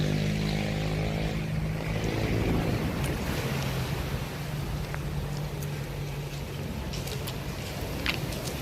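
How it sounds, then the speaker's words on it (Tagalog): Powerful ocean waves churn and rush continuously, with a low engine-like hum at first and occasional sharp splashes, loud and close. "Lakas ng alon, no."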